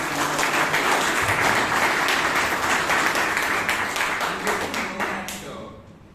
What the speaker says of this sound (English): I think so you deserve a big round of applause